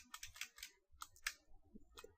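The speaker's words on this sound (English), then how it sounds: "So I'll just type use SMB / MS." Quick bursts of clicky keystrokes on a computer keyboard as a command is typed into a Kali Linux terminal, in short irregular runs with brief pauses, close and fairly quiet.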